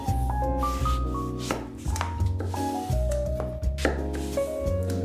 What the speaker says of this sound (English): First, take 1 eggplant. Chop it into small cubes.